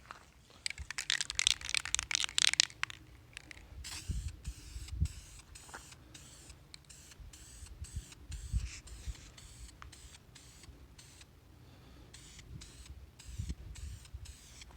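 Gray primer sprayed onto the frame parts of a 1960 GMC truck, heard as hissing aerosol bursts that come in short spurts and pauses, some longer and some brief, with light handling clatter in between.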